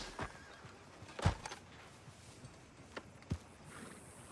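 A video game horse whinnies once, fairly close, with a few soft hoof clops and light rustling around it, no talking.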